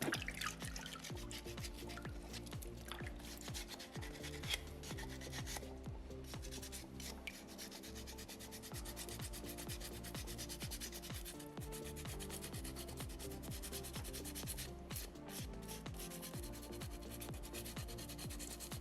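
Sandpaper is worked in rapid rhythmic strokes over a soapstone orca carving, giving a close, continuous gritty scratching with no talking.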